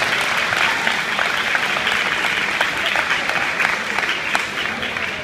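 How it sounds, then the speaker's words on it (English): Steady, sustained applause from a large crowd, close and loud, with individual claps crackling through for several seconds. "Let's give Brandon another round of applause."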